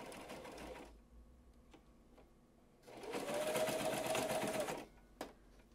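A domestic sewing machine runs in short bursts while stitching cording channels into a practice Victorian corset, first a brief run, then a longer steady whirring stretch of about two seconds ending with a click, close and clear.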